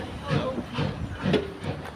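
A heritage steam train leaving Ingrow West station on the Keighley and Worth Valley Railway gives rhythmic steam chuffs and hissing, about two beats per second, fairly close and moderately loud.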